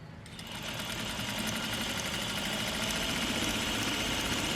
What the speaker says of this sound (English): Sewing over the top of the pin can potentially damage the machine.